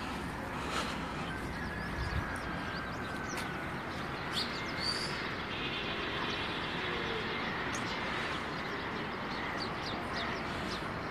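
Pigeons on a rooftop in Dina, Pakistan, under a cloudy, windy sky, with scattered bird chirps and calls heard faintly through a constant rush of wind noise.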